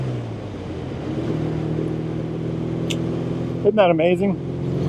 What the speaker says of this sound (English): It's a 500cc air-cooled parallel twin, overhead valves, cams are in the engine compartment